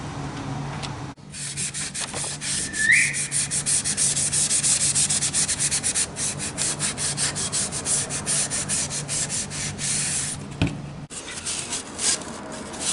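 Sandpaper is rubbed by hand over painted metal on the grille of a 1972 Plymouth Satellite, giving close, steady scratchy strokes in a continuous back-and-forth rhythm with a couple of short pauses.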